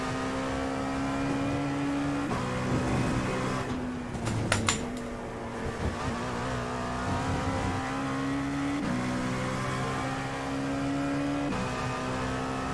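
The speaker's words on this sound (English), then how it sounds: "Mercedes AMG sound is best." Mercedes AMG race car in the iRacing sim, its engine droning steadily with pitch shifts through gear changes and a short burst of clattering mid-run, heard alone.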